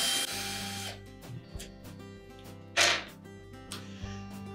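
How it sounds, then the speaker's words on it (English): A drill drives long screws into a Whirlpool washer during bearing replacement, with short bursts of motor whine broken by pauses, sharp clicks and a louder clack near the end, close and clear with no talk. "we're going to tighten those long screws"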